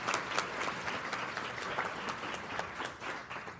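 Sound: audience applause at jigsaw puzzle ceremony

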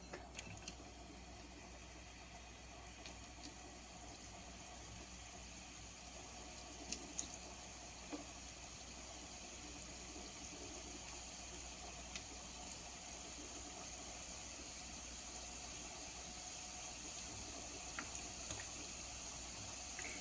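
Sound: sweet wheat-flour seedai dough dropped into hot oil, frying

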